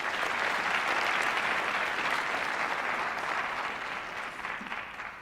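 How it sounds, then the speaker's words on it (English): A crowd at a multicultural graduation celebration gives warm, dense applause, loud at first and tapering off toward the end. "Let's give her another round of applause."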